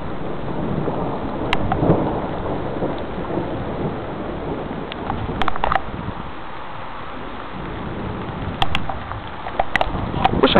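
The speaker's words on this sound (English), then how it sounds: "Oh, it's starting to rain again." Rain and low rumbling thunder from a tornadic thunderstorm make a continuous noisy wash, with scattered sharp taps of drops striking close by.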